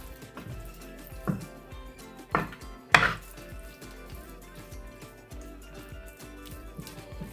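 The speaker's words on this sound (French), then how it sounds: "Ensuite, je viens mélanger." Spices are worked by hand into food in a dish, giving soft irregular taps and wet squishing sounds, with a few sharper clunks of the dish near the start, fairly quiet and close.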